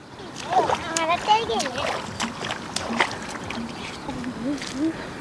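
Feet squelch and splash through mud in a flooded rice paddy during a rainy outing, with intermittent wet sloshes under lively nearby talk from several people.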